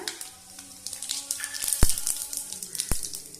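Cumin seeds hitting hot oil with mustard seeds and fenugreek in a pan, giving a soft, crackling sizzle with a few sharp pops, close up and fairly faint.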